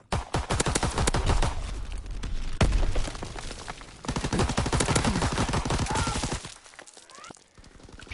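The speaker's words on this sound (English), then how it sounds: "PPSH just sorted me then." PPSh submachine gun fire in the video game Call of Duty WW2, loud rapid automatic bursts repeating almost without pause, with distant battlefield shots and a brief lull near the end.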